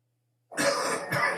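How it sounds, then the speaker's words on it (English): A single harsh, close cough bursts out of silence and rolls into a second, throaty hack, loud and alone with no talk around it. "This cough."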